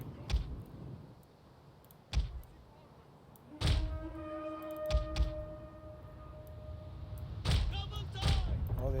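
Artillery in the Attila strategy game, several sharp thumping impacts spaced a second or two apart, some with ringing tails, over a low battlefield rumble.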